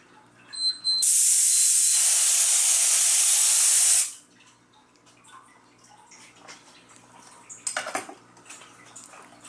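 A 1.8 spray gun at about 18 to 20 psi sprays hydrographic film activator in one steady, loud, continuous hiss of about three seconds, followed by quieter shop handling noises and a brief clatter.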